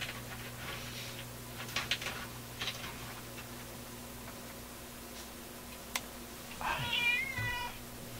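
A cat meows a few times, soft and close in a quiet room, with a longer drawn-out meow near the end.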